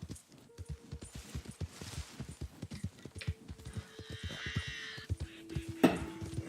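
Appaloosa horse hooves clip-clop steadily at a walking rhythm in the Red Dead Redemption 2 video game, with a brief whinny near the end and a tonal game hum underneath.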